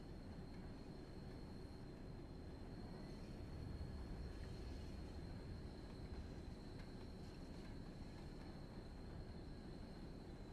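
A heavy freight train rumbles steadily along the line near Haymarket, Edinburgh, in the Train Sim World 4 video game, with a continuous low drone, a faint high whine and occasional light clanks throughout.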